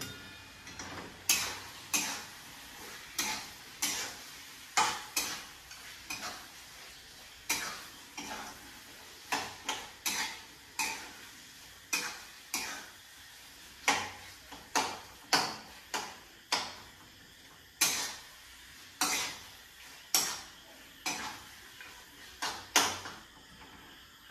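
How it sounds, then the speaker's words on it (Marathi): Mutton fry with chopped coriander being stirred in a pan: a steady series of sharp metallic scraping clicks from the spoon against the pan, about one every second, close and fairly quiet, with no talk. "आता याला परत मिक्स करून घेऊ."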